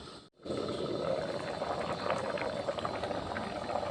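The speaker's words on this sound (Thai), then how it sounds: "เดือดผุดๆเลยจ้านะครับ" Thai pork and pumpkin curry boils hard in a pot, a steady close bubbling roar with dense popping that continues without pause after a brief dip at the start.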